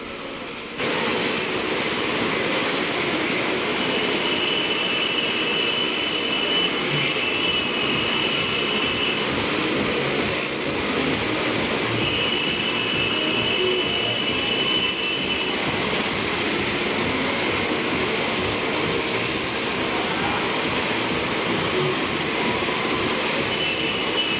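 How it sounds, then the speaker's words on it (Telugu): Engines roar continuously as five motorbikes and four cars race around the enclosed circular wall of a well of death at the Numaish exhibition in Hyderabad, a loud, steady droning whine that never lets up. "ఒక బావి లాంటి దాంట్లో ఐదు మోటార్ బైక్స్ నాలుగు కార్లు ఎలా తిరుగుతున్నాయో మీరే చూడండి"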